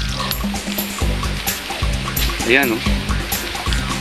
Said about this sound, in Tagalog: Yung tubig nanggagaling sa may bato.